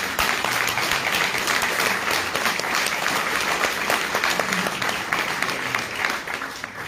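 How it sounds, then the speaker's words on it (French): Sustained applause from an audience fills the whole stretch, dense and steady clapping at an even loudness from start to finish. "Merci pour vos applaudissements"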